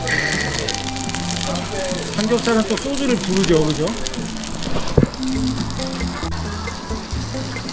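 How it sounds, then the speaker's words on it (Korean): Thick whole pork belly sizzles on a grill at an all-you-can-eat meat restaurant, a steady crackling hiss running throughout beneath near, lively talk from people at the table. "지글지글 지금"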